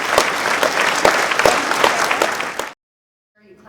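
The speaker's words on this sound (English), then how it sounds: "You clap for that guy." Dense applause from a large audience at the VIFF 2016 closing gala at Science World, Vancouver, claps steady and close, then cutting off abruptly into silence before faint talk begins.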